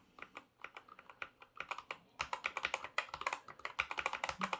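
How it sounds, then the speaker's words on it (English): Rapid typing on a Corsair K100 mechanical keyboard, close and crisp, with dense clacky keystrokes in irregular bursts that grow busier partway through; no voices. "this clicking sound is just from plastic hitting plastic underneath"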